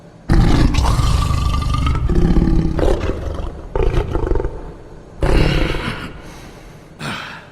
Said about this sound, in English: It's very impressive. Big scary roar.